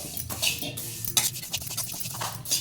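A spoon scraping and clinking against a pan while stirring a roasted black urad dal mixture, quick, close strokes with faint metallic taps.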